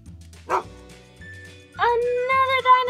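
A toy dog from an animal figure collection sounds with a short yip, then a longer run of whiny, high barks near the microphone.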